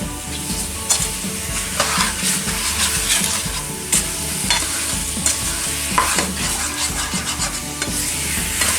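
Brown sugar for a jackfruit pie filling cooks in a pan on a low stove, giving a steady, close sizzle and frying hiss throughout with repeated stirring scrapes, and no voices.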